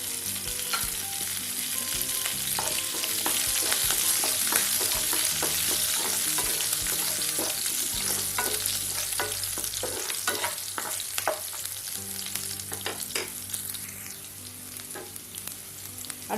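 Green chillies and curry leaves fry in hot oil with browned urad and chana dal, a loud close sizzle and crackle with spoon scrapes and stirring clicks throughout, easing slightly toward the end.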